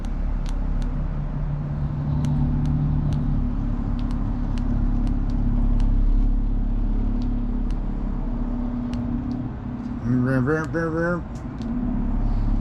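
Motor of a 2019 Vrestliner boat running during a water test, a steady low rumble throughout, with someone speaking briefly near the end.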